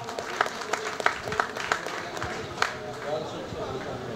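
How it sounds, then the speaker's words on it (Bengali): Applause from an audience at a ceremony, a burst of scattered hand claps rising then thinning into a lighter patter, moderately distant, with voices talking underneath. "এটার জন্য একটা জোরে হাততালি পাওয়া উচিত"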